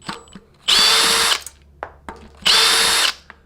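A power drill spins a disc rotor off a Nicolai Geometron gearbox mountain bike in two loud bursts, each nearly a second long, with a high whine and clicks of handling between them.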